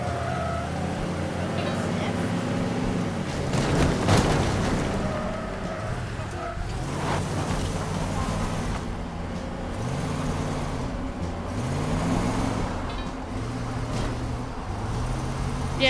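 Fast car driving in the video game Teardown, its engine humming and shifting pitch in repeated rising sweeps as it accelerates, steady under game effects and a talking voice throughout.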